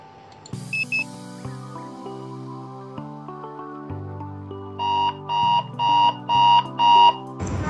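A quiz bee countdown timer at a civil engineering contest plays a stepping electronic melody, then sounds five loud, evenly spaced alarm beeps in a row.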